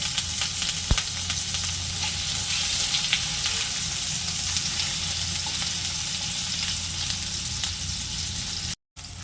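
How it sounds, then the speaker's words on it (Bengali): Paneer cubes fry in hot oil over low-to-medium gas flame, a loud, close, continuous sizzle with faint stirring scrapes and one sharp knock early on, steady throughout with no talking. "পনিরগুলো তেলের মধ্যে দিয়ে দিচ্ছি।"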